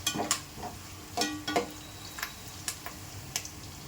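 Onions and tomato sautéing in a pan for pepper chicken gravy, giving soft, steady frying crackle with intermittent sharp stirring scrapes and clicks, close and moderately quiet, no voices.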